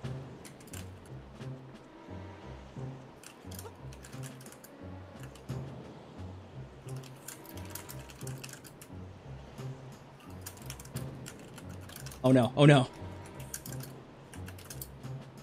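Rapid, irregular keyboard typing clatters steadily through the background of a Legend of Zelda: Wind Waker HD game session, while a brief exclaiming voice and a couple of louder sharp bursts rise near the end.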